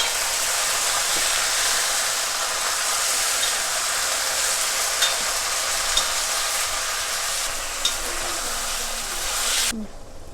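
Tomato pieces fry in a pan for chutney, giving a steady, loud broadband sizzle with a few faint clicks from the utensil, cutting off abruptly near the end.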